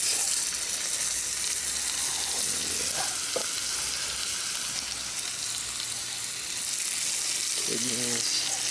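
Diced tomatoes and sauce tumble into a pot of pulled pork chili on a Weber kettle grill, setting off a steady, close sizzle with a few stirring scrapes and splashes and no talk.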